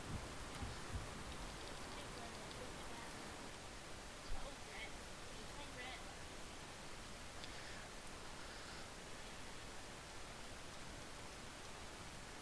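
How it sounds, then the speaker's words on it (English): Rain falls steadily outdoors, a faint, even hiss that continues without a break, with one brief soft knock partway through. "Rain sounds nice."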